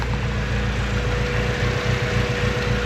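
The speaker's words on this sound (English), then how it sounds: "I got it to where it's idling really nice and sounds great." A 1991 Honda car with a Skunk2 exhaust idles steadily with a low, even exhaust rumble, continuous and close, with no voices.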